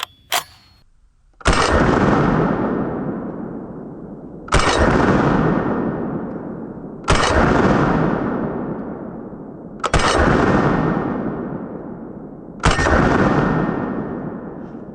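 Five loud M1A rifle shots ring out one at a time, each about three seconds apart, every sharp crack trailing into a long echoing decay, with no talking.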